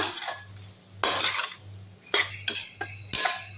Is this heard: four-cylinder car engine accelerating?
no